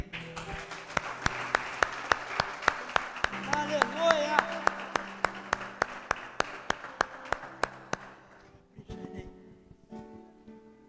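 A church congregation applauds with sustained, dense clapping for about eight seconds that fades out. Sharp rhythmic claps stand out over the crowd, and someone speaks briefly over it.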